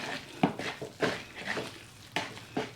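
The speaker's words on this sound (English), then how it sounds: "So now I'm just mixing the butter." Butter being mixed into a thick batter in a bowl, a few distinct clinks and scrapes of utensil against the bowl at irregular intervals, close and moderately quiet, with no talking.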